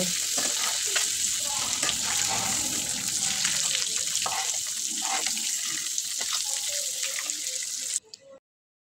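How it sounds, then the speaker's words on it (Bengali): Eggs sizzle steadily in hot oil, a bright close crackle with occasional spatters and utensil taps, cutting off abruptly toward the end. "ডিমগুলো লাল লাল করে ভেজে নেব।"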